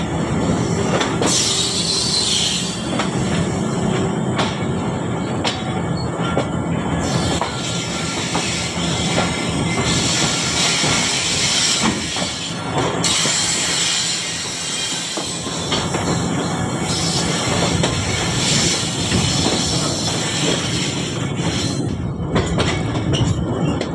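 The Sir Syed Express rolls into a station yard after switching from the chord line onto the main up line. Steady, loud rumble of the carriages continues throughout, with wheels squealing and clattering over points, and no voices.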